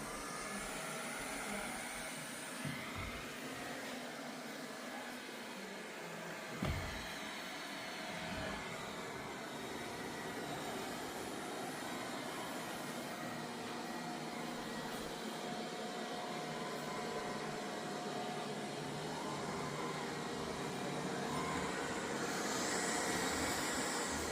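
A Samsung Bespoke Jet Bot Combo robot vacuum hums steadily as it runs along the walls, a continuous broadband whir with a few faint bumps and small tonal shifts throughout.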